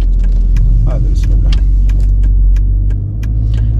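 A Mercedes-AMG S63 pulling away slowly: a steady, loud low engine rumble close by, with someone talking over it throughout.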